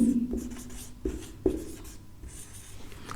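Chalk writing on a classroom board while a table is drawn, a few scratchy strokes and sharp taps with pauses between, close and fairly quiet, with no talk over them.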